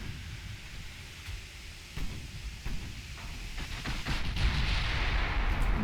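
Heavy naval gunfire from battleships in Ultimate Admiral Dreadnoughts, a set of deep booming blasts over a constant low rumble that grows louder and denser toward the end, with no talking.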